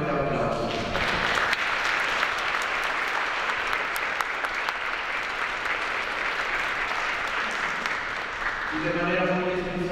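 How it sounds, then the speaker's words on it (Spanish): A church congregation at a fifteenth-birthday Mass gives a long, loud round of applause lasting most of the stretch, then it fades and a voice begins speaking near the end. "Le damos un fuerte aplauso."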